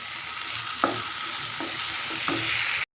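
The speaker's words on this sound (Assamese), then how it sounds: "ভাজি আছোঁ" Paste fries over low heat in a pan as a spoon stirs it, a close steady sizzle marked by several distinct scraping strokes before stopping abruptly.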